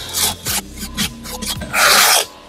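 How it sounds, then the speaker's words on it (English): Mortar rubbed over the corner post of a brick wall gives a series of rasping, scraping strokes in uneven bursts, with a longer, louder grinding stroke near the end. "I'm just putting a little bit of mortar over my corner post here. You just want to rub it over"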